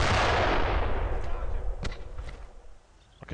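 Mortar fire and gunfire in the WWII video game Brothers in Arms. A big booming blast opens and rolls away, then scattered sharp shots follow more faintly.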